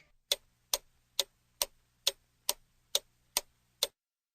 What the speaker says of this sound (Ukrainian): Цокає годинник.